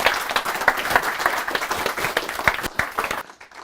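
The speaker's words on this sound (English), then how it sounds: "Once again, big round of applause for our speakers tonight, Kieran and Chris." Applause from the audience after a talk at a cloud native media meetup, a loud, dense burst of clapping that continues for a few seconds before quickly dying away.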